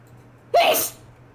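One sharp, close human sneeze bursts out over a faint background hum, with a quick rising intake sound before the breathy release.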